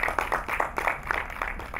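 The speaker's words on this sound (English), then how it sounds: "Please, a round of applause for them" Audience at a film screening event applauding, a steady patter of many hands clapping at moderate distance, continuous for the whole stretch with no voices over it.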